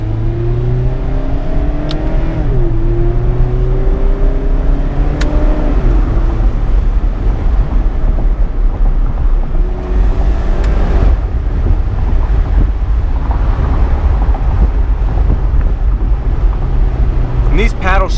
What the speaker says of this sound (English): there may be a lot more wind noise and vehicle noise